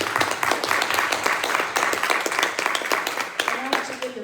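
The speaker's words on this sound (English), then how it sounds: "I want everybody to give them a round of applause first" Audience applause for the speakers at a community gathering, a steady wash of clapping from many hands lasting throughout, with some voices and cheering mixed in.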